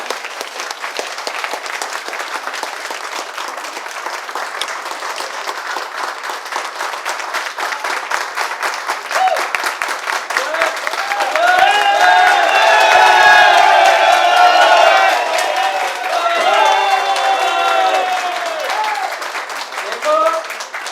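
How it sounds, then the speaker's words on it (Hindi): A hotel event audience claps, building to loud applause with cheering and whoops in the middle before easing off, heard over and under someone talking into a microphone. "ताली बजाइए, जोरदार ताली।"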